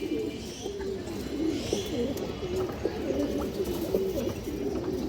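Pigeons coo steadily in a loft, a low, repeated, throaty murmur. It runs throughout over a constant noisy background, moderately close and fairly soft.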